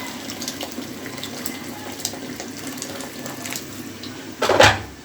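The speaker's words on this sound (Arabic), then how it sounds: "وانزل بالميه سخنه بتغلي" Hot boiling water poured into a pot of rice, a steady close splashing hiss that ends in a louder gush of water, with no talking.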